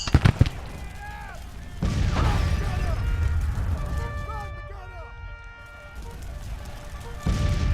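Soldiers firing muskets in a Civil War battle video game, with scattered shots and popping bursts, some ringing mechanical tones, and someone talking throughout.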